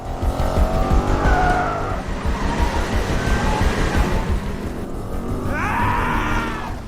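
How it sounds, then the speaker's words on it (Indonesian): Cars racing in a chase that leaves a racetrack and continues onto public roads, engines roaring steadily throughout with loud tire screeches and skids rising near the start and again toward the end. "Lantas ia langsung tancap gas mengejar Buster yang dikendarai oleh Sion."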